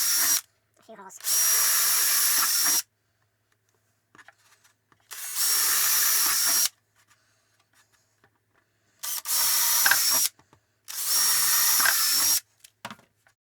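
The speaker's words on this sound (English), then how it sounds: "So I'm going to drill a hole first." A small power drill bores holes in a model warehouse building in four separate whining runs of about two seconds each, with quiet pauses between them.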